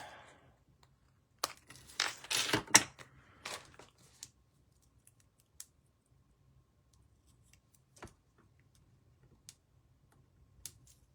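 Scissors snip a small strip of paper for a handmade greeting card, a quick burst of crisp cuts followed by a few isolated faint clicks and paper rustles in a quiet room.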